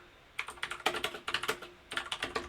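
Quick bursts of typing on a computer keyboard, close and fairly quiet, with clustered clicky keystrokes separated by short pauses.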